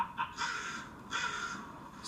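Crows caw in a few harsh, repeated calls, fairly close and clear against a quiet outdoor background with no talking.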